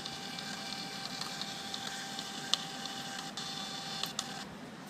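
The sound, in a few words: breath analyzer machine printing out a test receipt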